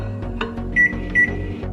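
A microwave oven hums steadily up close while heating homemade rice cake dough, a low drone with a couple of brief brighter swells, no talking.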